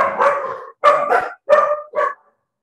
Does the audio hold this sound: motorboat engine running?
no